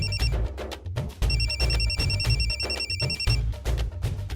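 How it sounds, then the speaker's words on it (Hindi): A telephone rings repeatedly in a steady pattern of electronic trills, with short gaps between bursts, fairly loud. "कोई फोन बज रहा है।"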